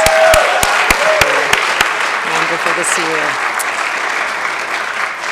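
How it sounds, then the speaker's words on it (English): A chapel audience at Saint Johnsbury Academy breaks into loud, dense applause, opening with a few sharp, distinct claps before settling into a steady roar that slowly tapers, while a speaker's voice talks briefly over it. "Can we just give a round of applause for being back in chapel, please?"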